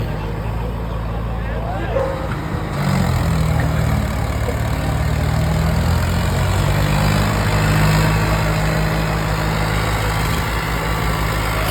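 A heavy engine rumbles steadily throughout, an old 735 tractor idling then revving slightly, with people talking over it.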